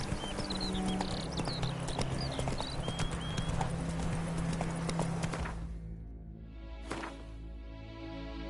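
Roach the horse gallops across open ground in The Witcher 3, steady rhythmic clip-clop of hooves under a musical score for most of the stretch, then the hoofbeats break off into a quieter ambient tail.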